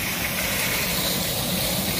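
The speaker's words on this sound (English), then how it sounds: "That's the sound of the water running into the drain." Rainwater pours into a backyard drain as a steady, close rushing hiss that stays unbroken throughout, with no voices over it.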